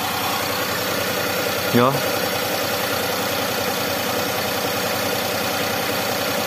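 Daihatsu Xenia 1.0 engine idling at about 900 RPM, a steady low hum throughout with a brief spoken interjection early on.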